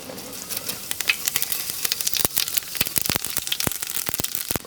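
Fennel seeds dropped into hot ghee, crackling and spitting close up in a rapid, irregular run of sharp pops over a soft sizzle.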